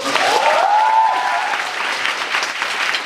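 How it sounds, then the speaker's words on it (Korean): A theater audience applauds at a musical's final-performance curtain call, steady dense clapping that is loud and close. A brief vocal tone rides over the start. "제 박수 소리 좀 작네요"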